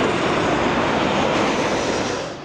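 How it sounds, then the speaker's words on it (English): Airplanes landing near O'Hare airport pass low over homes along Hillside Drive in Bensenville, a loud, steady engine roar filling the whole stretch and easing slightly at the end, with no voices. "The vortex is terrible. The planes are terrible."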